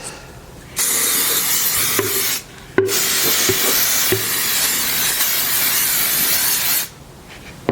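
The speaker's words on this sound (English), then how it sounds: "And I will spray it with mold release." A steady aerosol can of mold release hisses loudly for about two seconds, pauses briefly, then sprays again continuously for around four seconds before stopping.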